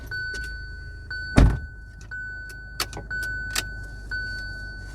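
Inside the cabin of a Kia Seltos HTE base model, a short, loud burst marks the engine starting, followed by a low, steady idle hum and the air conditioning running, with a few light clicks and rattles scattered over it.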